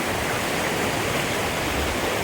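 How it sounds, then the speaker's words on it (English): A waterfall in Albania pours in a constant, dense roar of rushing water, broad and steady throughout, with no voices over it. "Waterfall in the distance,"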